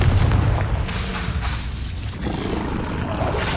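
In Hogwarts Legacy on PS5, a Confringo blasting spell goes off with a deep, loud boom, and a rumbling roar spreads out and lingers after the blast.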